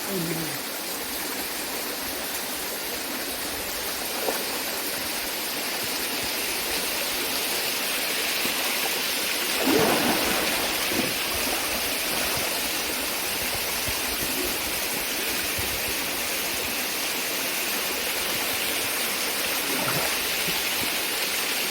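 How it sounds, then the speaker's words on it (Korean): A waterfall on a mountain stream in the Yeongnam Alps rushes in a steady, dense roar close by, with faint brief voices now and then. "폭포가 하나 나옵니다."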